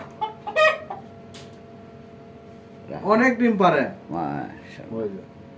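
Tiger chickens on a poultry farm cluck and call in short bursts, with a louder cackling run near the middle and steady low background noise between calls.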